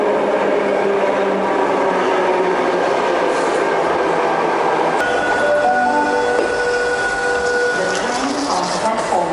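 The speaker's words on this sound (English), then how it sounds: "Here we are on the Sydney trains, and their famous double-decker trains." A Sydney double-decker commuter train riding toward Bondi Junction: a steady rumbling ride with rattling carriage noise, then squealing, whining wheel and brake tones in the latter half, loud and close from inside the carriage.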